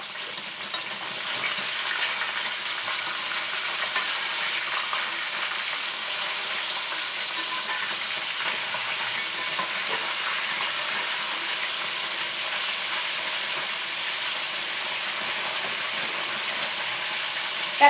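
Fish pieces for fish curry fry in a pan with an even, unbroken hiss and sizzle that holds a steady level throughout, with no stirring knocks or voices.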